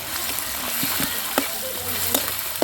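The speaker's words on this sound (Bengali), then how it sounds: "তেলে একটু ভাজা হয়ে যাবে।" Ground chili paste sizzles loudly in hot oil for chicken masala, a dense steady crackle with a few sharp spatters and stirring scrapes close up.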